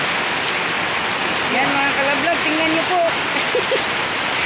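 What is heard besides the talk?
heavy rain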